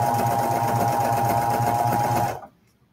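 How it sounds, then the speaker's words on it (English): A serger overlock machine sews the seam of sweat shorts, a loud close continuous whir with a rapid pulsing rhythm that stops abruptly near the end. "And I'm gonna sew that on my serger here."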